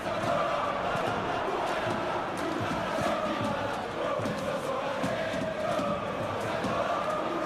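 A stadium crowd in the Football Life 26 video game, during a Fiorentina Master League match, roars steadily at moderate volume, a dense continuous din with no clear pauses.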